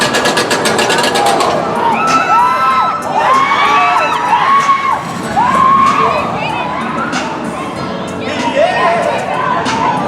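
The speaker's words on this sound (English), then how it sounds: "except for the people screaming usually" Crowd screams and shrieks ring out from riders on the Daredevil Dive, a beyond-vertical-drop roller coaster at Six Flags Over Georgia, rising in loud overlapping bursts that swell and fade across the clip.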